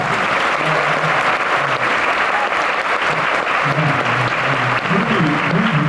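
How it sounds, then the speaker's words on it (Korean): Big round of applause from a concert audience after solo stage performances with an orchestra, dense steady clapping filling the hall throughout with faint crowd noise underneath. "재밌게 보셨다면 큰 박수"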